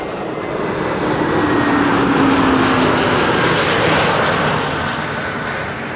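An aircraft landing at Schiphol airport roars with a loud, broad engine rumble that swells toward the middle and eases off slightly as it passes, with no voices.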